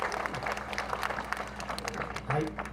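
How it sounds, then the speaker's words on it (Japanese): Festival crowd at the Ushibuka Haiya festival clapping to send off a town mayor, a fairly quiet patter of applause under a low hum, with a speaking voice rising briefly near the end. "拍手で、お送りいただけたらと思います"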